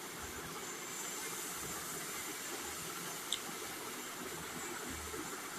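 Tomatoes frying in a pan while cooking sprouted moong usal, a steady, soft sizzling hiss that runs evenly throughout with no talk over it.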